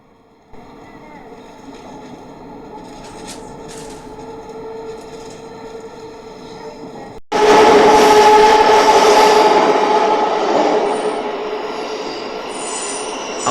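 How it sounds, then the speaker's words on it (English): A Thameslink train rumbles steadily, then the noise abruptly swells into a loud, roaring rush with squealing wheels as it runs through the enclosed, abandoned King's Cross Thameslink platform tunnel. "Our train continues, heading south towards Farringdon, passing through the abandoned King's Cross Thameslink platform."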